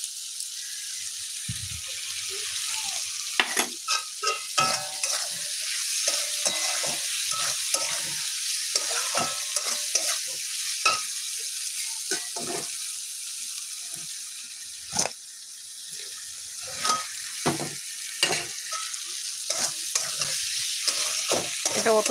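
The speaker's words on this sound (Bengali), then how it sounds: "তো আদা জিরে লঙ্কাটা দিয়ে আমি এখন একটু কষিয়ে নেব" Ginger, cumin and chili paste sizzle steadily in a pan with potatoes and paneer, with repeated stirring scrapes and clacks breaking through the constant frying hiss.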